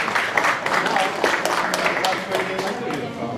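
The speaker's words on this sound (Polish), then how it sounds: "Gorące brawa jeszcze na rad dla zawodników." A crowd applauds competitors at a school contest at Zespół Szkół nr 1 in Kłobuck. The dense clapping runs the whole time beneath a speaking voice.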